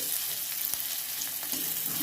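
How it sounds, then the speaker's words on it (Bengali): Chopped onion fries lightly in hot oil in a pan, giving a steady, close sizzle and crackle that carries on without pause, with no voices over it. "এই পেঁয়াজটা আমি ভেজে নিচ্ছি হালকা করে"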